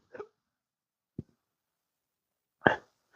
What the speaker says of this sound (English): intractable hiccups is a real condition, disabling condition.